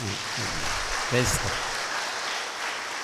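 A congregation claps in a prayer hall during a live Kannada prayer service at Divine Prayer Centre, Thokkottu, a steady dense patter of applause while a voice speaks over it.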